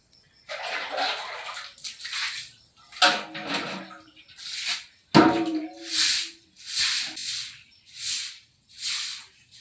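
A muddy potato sack being washed with water at an outdoor tap: repeated bursts of splashing and sloshing in a steady rhythm, fairly close, with no talking.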